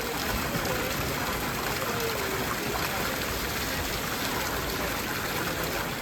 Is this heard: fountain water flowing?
yes